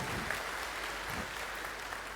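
Audience at an anniversary celebration clapping, a soft, continuous patter of applause heard from a distance at low level.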